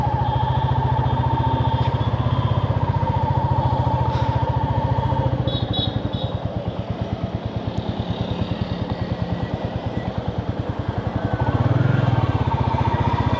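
A Royal Enfield Bullet 350 motorcycle thumps steadily on a ride, its single-cylinder engine putting out an even low pulsing drone close to the listener. The revs rise slightly toward the end.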